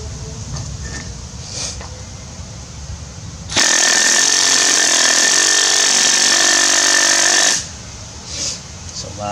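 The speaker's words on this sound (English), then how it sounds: "It's a loud drill in comparison to the Surge. Definitely a loud drill." A loud, harsh cordless rotary hammer drill roars for about four seconds against a quieter background, then cuts off abruptly.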